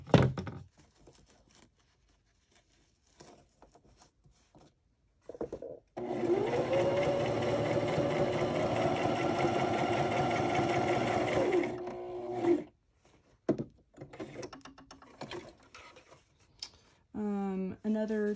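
A sewing machine stitches a fabric journal cover in one steady, whirring run of about six seconds, framed by quieter handling clicks and thumps before and after.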